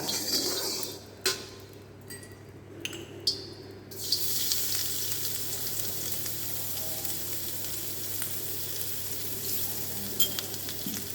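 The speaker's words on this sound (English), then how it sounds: "Stir fry it." Chopped ginger and garlic sizzle and fry steadily in hot oil, with a few clinks of a utensil stirring the pan early on, the crackle continuing evenly throughout.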